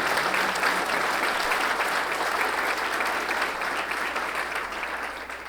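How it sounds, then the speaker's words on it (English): Audience at a Southern California water infrastructure panel event applauding steadily, a dense, even round of clapping that fades slightly toward the end. "Let's give them a round of applause."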